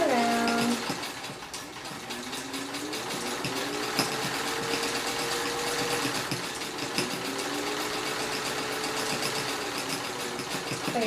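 A sewing machine stitches leather pillow material in a steady mechanical run with rhythmic needle ticking, continuous and fairly close throughout.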